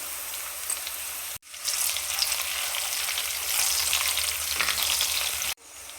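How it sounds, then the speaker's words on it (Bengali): Green chilies and onion fry in a pan for pasta, a loud, dense, close sizzle that drops out briefly twice at the cuts. "কাঁচামরিচ আর পেঁয়াজ ভেজে নিচ্ছি।"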